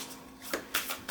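A deck of tarot cards shuffled by hand, giving a few short papery riffles and flutters in quick bursts, close and crisp, with no talk.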